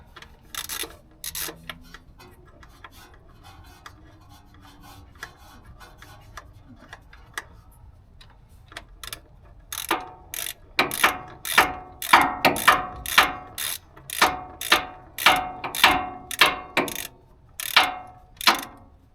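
A ratchet wrench tightens a plastic transmission filter with a steel sleeve on a 2019 Ford F-150 Raptor, a few scattered clicks at first, then a steady run of loud, rhythmic ratcheting clicks close by.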